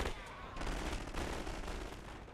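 Heavy World War One battle gunfire in The Great War Total War mod, a dense continuous crackle of rifle and machine-gun shots at a loud, steady level with no talk.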